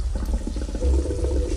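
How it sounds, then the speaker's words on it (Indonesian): Water runs from a tap into a sink in a bathroom next to a pantry, a steady low rushing and splashing with no voices, heard as a sound effect in a radio horror drama. "Aku mematikan keran air"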